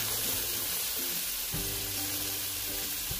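Water is poured into a hot pot of browned wild hog meat over a woodfire, giving a loud continuous sizzle and hiss with short bursts of bubbling, near and alone.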